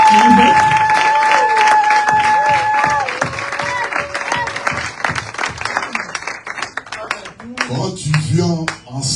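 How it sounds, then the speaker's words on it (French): A church congregation claps together during a service, dense applause that begins loud and close, then thins into scattered claps as a voice speaks over it near the end. "Nous pouvons quand même applaudir."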